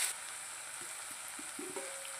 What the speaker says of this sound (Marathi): थोडं मीठ टाकून घेऊया आपण, म्हणजे टमाटर लवकर भाजतंय